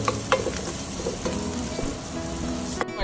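Coarse coriander seeds and coriander powder frying in hot oil for vada pav, a steady close sizzle with light crackles and a few stirring scrapes, no talking.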